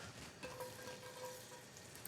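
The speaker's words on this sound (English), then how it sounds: "Got to make sure I got some sizzle going there." Chopped red onions sizzle in olive oil in a hot pan while bucatini carbonara is being cooked, giving a steady close crackle and hiss with no voices.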